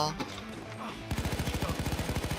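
Rapid automatic rifle fire in the heist shooter game Payday 2, a steady burst of evenly spaced shots starting partway in, loud and close, after a brief stretch of background game noise.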